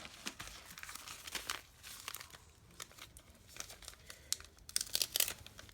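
A gift bag from a summer embellishment craft box opened and ripped, with close, crisp crinkling and tearing of paper in uneven bursts that grow louder toward the end, no voices.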